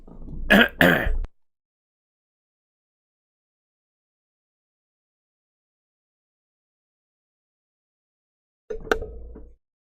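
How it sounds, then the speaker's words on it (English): A loud, close throat clearing through mucus at the start, followed by long silence and a second shorter throat clear near the end. "I had to clear my throat real loud there."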